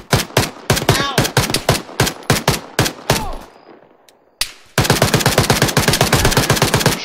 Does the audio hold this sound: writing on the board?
no